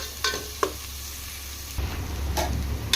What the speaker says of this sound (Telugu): ఈ ఆనియన్ కొంచెం మగ్గేదాకా ఫ్రై చేసుకోవాలా.